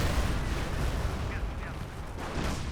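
Company of Heroes battle with an artillery barrage, dense rumbling booms and crackling fire in a continuous loud wash, with a voice faintly mixed in.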